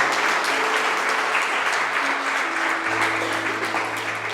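A church congregation claps together in steady, dense applause that holds at an even level throughout, with faint voices and a sustained music tone underneath.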